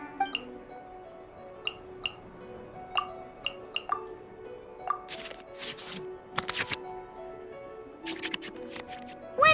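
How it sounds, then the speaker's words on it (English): Card-shuffle and placement effects from the Genius Invokation card game in Genshin Impact: a series of soft clicks and chimes, then bursts of rapid shuffling swishes, fairly quiet and alone with no talk. "we can select any number of cards in our hand to shuffle back into the draw pile"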